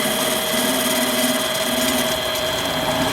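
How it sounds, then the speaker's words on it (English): A metal lathe chatters steadily as it cuts an indexable dovetail cutter, its compound still needing breaking in, giving a loud, continuous grinding machining noise with no pauses. "I guess this lathe still needs some breaking in on the compound, so I don't get this chatter all the time."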